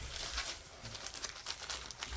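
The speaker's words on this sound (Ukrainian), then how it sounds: "Так, в картонній коробці мається пакунок, розвернувши який всередині мається зіп-пакет" A package taken from a cardboard box is unwrapped with close, continuous crinkling and rustling of wrapping material in short irregular bursts.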